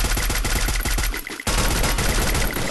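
Rapid automatic gunfire in the mobile shooter Garena Free Fire, a dense, loud stream of shots that breaks off for a split second and then resumes just as hard.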